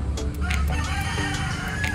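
A rooster crows in the middle distance on a Philippine farm over a busy backdrop of clucking chickens and low farmyard noise.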